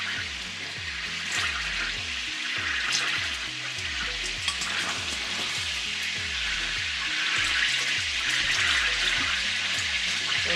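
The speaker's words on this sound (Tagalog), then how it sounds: "Let's put again another batch. Let's fry it." Filipino beefsteak slices fry in a pan with a loud, steady sizzle that runs without a break, while rhythmic background music plays underneath.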